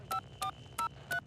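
Four short dual-tone keypad beeps from a video phone being dialed in an animated sci-fi scene, evenly spaced, crisp and close, with no talk over them.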